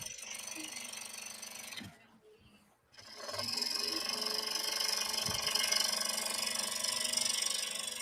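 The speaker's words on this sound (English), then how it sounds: "Doing some sanding on these." An oscillating spindle sander grinds wood for woven baskets with a steady, close rasping hum that drops away briefly, then returns, loud and continuous.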